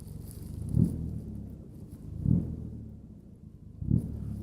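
A Triumph TR4A engine idles with three short throttle blips, each a brief low rev rising and falling, spaced evenly about a second and a half apart, fairly quiet.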